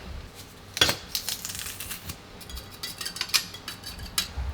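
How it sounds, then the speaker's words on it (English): Yogurt, cream cheese, chives and garlic being stirred together in a bowl, giving irregular clinks and scrapes of a utensil against the bowl, with one sharper knock near the start. "we just mix everything together until it forms a nice smooth consistency"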